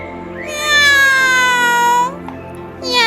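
Cartoon cat giving a long, loud, drawn-out meow that bends downward in pitch, followed by a short pause and the start of another cry, with no talking.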